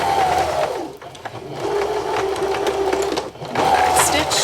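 Sewing machine stitching piping onto fabric, running in close, loud bursts with short pauses between runs of stitches.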